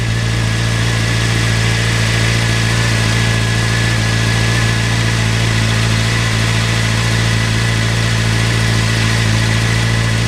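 Suzuki GSX-R600 motorcycle engine running steadily at around 5,000 rpm during a charging-system check, a loud, even mid-pitched hum with constant tone and no change in revs.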